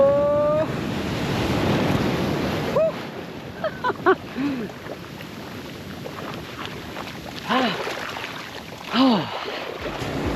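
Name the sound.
strong ocean current and surf at a beach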